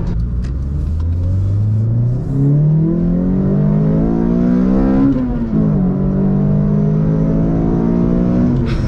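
A Toyota Corolla XRS fitted with a Magnaflow exhaust accelerates hard through the gears, its loud, droning engine note rising in pitch, dropping at a shift and climbing again, heard from inside the car with no talking.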